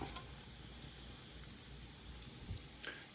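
Rice and onions toasting in a pan for mushroom risotto give a steady, soft sizzle throughout, with a faint scrape or shake of the pan near the end.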